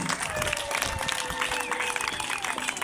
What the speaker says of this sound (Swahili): hebu mniunge mikono kidogo kwa kumpiga makofi kidogo